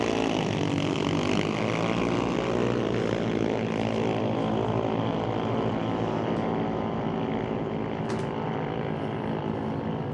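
Drag race cars at an NHRA Summit ET bracket racing event launching and roaring down an eighth-mile strip, a loud sustained engine drone that fades slightly as they pull away, with no talking.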